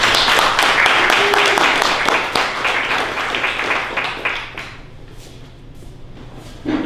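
Audience applause at a Small Business Week event in a hall, dense clapping that holds steady for several seconds and then thins out toward the end, with a voice faintly audible underneath.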